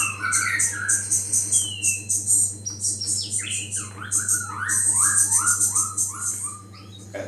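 A newly arrived white-rumped shama (murai) sings a long run of varied whistles, chirps and rising-falling phrases close by, with a steady low hum underneath throughout.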